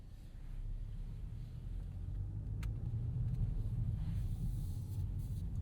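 A 2026 Kia K4 hatchback with a turbo engine drives on the road, heard from inside as a steady low engine and road rumble that builds slightly, with no talk.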